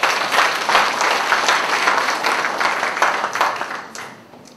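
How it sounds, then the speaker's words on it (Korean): An audience at a political lecture claps for Ahn Cheol-soo, a loud, full burst of crowd applause that holds steady for several seconds and then tapers off toward the end. "우리 안철수 씨한테 박수 한번 해주시죠"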